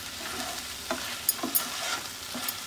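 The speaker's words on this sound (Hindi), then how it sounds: "तो एक बार हम फिर से इसे मिक्स करेंगे" Okra cooking in curd is stirred in a hot pan, a soft continuous sizzle broken by a few brief scraping strokes of the spoon, close and fairly quiet.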